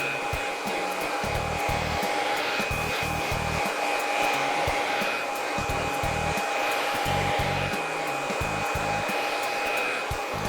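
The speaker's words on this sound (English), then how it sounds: "So you can see the blow dryer is in constant motion." A blow dryer whirs steadily while drying hair wrapped around a round brush during a curling and styling makeover, a constant loud roar with rhythmic low thumps and handling bumps underneath, no talking.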